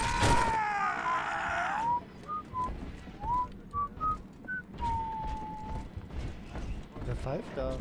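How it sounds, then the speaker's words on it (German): A person whistles a wavering, sliding tune of short notes and one long held note in the video game BioShock 2, over background noise and a brief loud burst at the start. "Wer pfeift da?"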